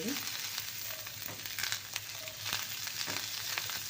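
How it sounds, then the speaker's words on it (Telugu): Tamarind leaves fry in a pan, a soft, steady sizzle close by with light crackles and occasional stirring scrapes, and no talk. "కొంచెం ఫ్రై చేసుకుంటే సరిపోతుంది ఎక్కువ అవసరం లేదు"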